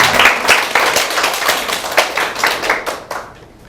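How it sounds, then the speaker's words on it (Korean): A lecture audience at a corporate leadership talk bursts into dense applause, many hands clapping at once, loud and close, then thinning and fading out toward the end. "박수가 너무 좋으십니다"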